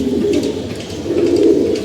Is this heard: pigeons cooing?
yes